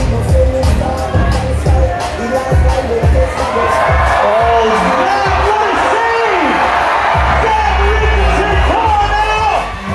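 A big crowd at a bouldering competition in Montreal yells, whoops and cheers loudly and continuously, with excited shouts rising and falling throughout.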